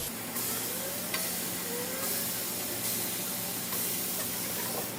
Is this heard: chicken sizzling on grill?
yes